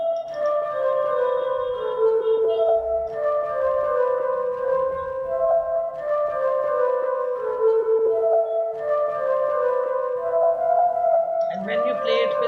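Plucked guzheng-style string melody from a Spitfire Labs preset, a repeating phrase of bright notes that slide and bend, cycling several times at a steady, moderate pace.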